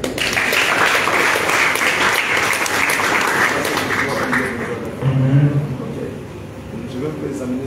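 Congregation applause at a prophecy service in honor of Jesus Christ, a sustained loud burst of many hands clapping that thins out partway through, with voices rising beneath it.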